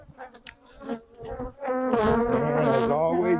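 Honeybees at an open hive, a dense close buzz that starts patchy with a few passing bees, then swells into a loud, sustained, wavering drone.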